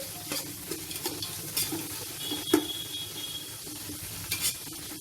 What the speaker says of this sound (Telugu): ఇప్పుడు ఈ ఉల్లిపాయ ముక్కల్ని బాగా ఫ్రై చేసేసుకోవాలి